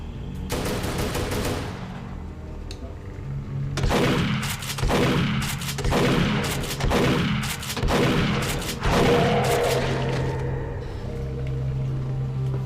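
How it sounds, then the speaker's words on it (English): Repeated gunfire from the 1990s shooter Duke Nukem 3D, with a sustained roar and then a series of loud, regularly spaced blasts over rumbling game noise throughout. "gonna get away from him so that I can shoot."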